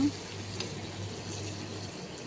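A glass of water is poured into a simmering dried fish and egg curry, giving a brief, quiet splashing gush over a low background hum.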